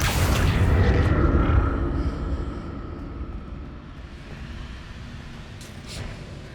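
A Confringo blasting spell explodes in Hogwarts Legacy: a loud, deep boom at the start that rolls and slowly fades into a low rumbling tail.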